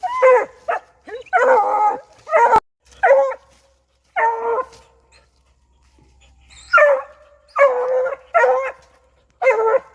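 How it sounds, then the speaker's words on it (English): A young coonhound treeing on her own during hunt training after trailing a dragged coon hide, giving repeated loud bawling barks in bursts with short gaps, close by and without talk. "This again is some clips of the dog treeing for the first time on her own."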